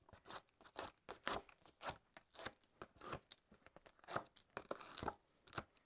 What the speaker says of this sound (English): And then we'll peel the back off of these.